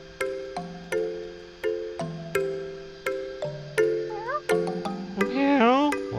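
Small kitten meows, a couple of short rising and falling cries, play as sound effects in a hidden-cat game set in Bali, over a bright, rhythmic chiming game melody.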